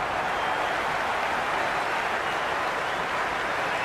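A cricket crowd in the video game Cricket 26 cheers and applauds in a dense, steady roar of massed noise, fairly loud and unbroken for the whole stretch with no clear speech.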